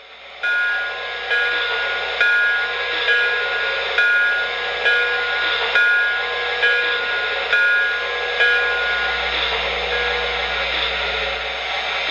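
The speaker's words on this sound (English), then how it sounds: "Here's the bell." The bell of an MTH Santa Fe Blue Goose model passenger train rings in a steady, regular clang, about one strike per second, loud and close with a faint hiss beneath and no talking.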